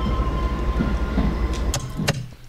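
A train in the zombie survival game Zompiercer rumbles to a halt, a heavy low engine drone that cuts off, followed by two sharp metallic clanks.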